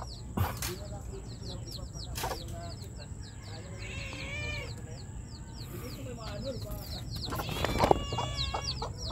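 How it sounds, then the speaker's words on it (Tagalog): Bantam chickens cluck and chatter softly nearby, with a few louder squawks and light background noise; a person speaks briefly at moments. "Mga bantam na manok."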